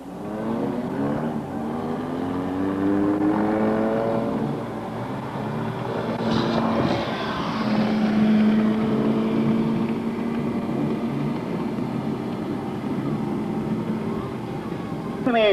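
A race car takes its victory lap at an oval track, its engine droning steadily and rising and falling as it circles, with a public-address voice talking over it.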